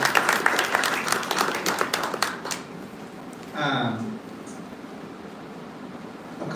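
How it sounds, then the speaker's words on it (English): Applause from an audience at a mobility justice networking dinner, a dense patter of clapping for the first two and a half seconds that fades out, followed by a quieter room with a brief voice. "big round of applause"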